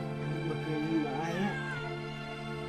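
A cat gives a drawn-out, wavering meow over a steady background hum, close by.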